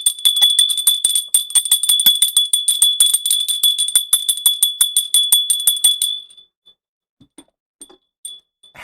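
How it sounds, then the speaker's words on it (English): A small metallic bell rings in a rapid, continuous clatter for about six seconds with bright, piercing tones, then stops, leaving a few faint scattered clicks afterward. "Guys, I'm going to ring the bell."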